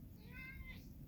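A pet cat meows once, a clear drawn-out call rising and falling, fairly close over a low background rumble in a home.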